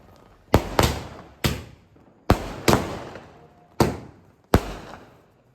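Diwali sky shot fireworks burst overhead in a quick irregular series of about seven sharp booms, each trailing off into crackling decay, loud and fairly near.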